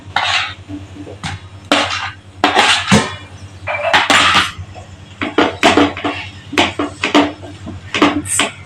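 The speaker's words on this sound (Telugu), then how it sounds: "ఇప్పుడు మనం తీసుకున్న మసాలాలన్నీ మాడిపోకుండా దీంట్లో మనం కట్ చేసి పెట్టుకున్న టమాటా ముక్కలు యాడ్ చేసేసుకుంటున్నాం." Cut tomato pieces go into spiced masala in a pan for a beans gravy curry, heard as close, irregular clanks and scrapes of a utensil against the pan in quick bursts. No one speaks.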